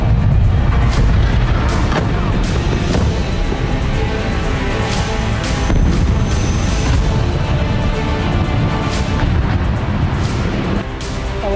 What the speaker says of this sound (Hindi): दिखाते हैं कि इजरायली हमलों से कैसे ईरान के कई शहर दहल गए